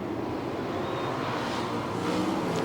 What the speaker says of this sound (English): Mark Kinser's on the throttle, ready to push it down and hammer it out